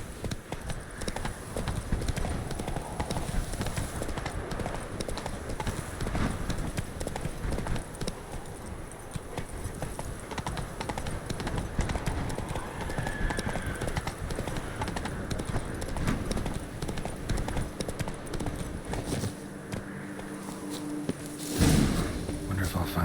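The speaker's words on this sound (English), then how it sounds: "Run, Roach." Horse hooves clip-clopping at a steady gallop in the fantasy RPG The Witcher 3: Wild Hunt – Blood and Wine, continuous and close throughout, with game ambience and a brief louder burst near the end.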